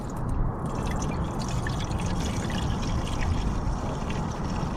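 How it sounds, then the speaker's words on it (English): Fuel pours steadily into the tank of a Rovan XLT450 45cc RC truck. The liquid gurgles and rushes continuously, close and fairly loud, with no pause or talk. "We gotta put some fuel in it and fire it up."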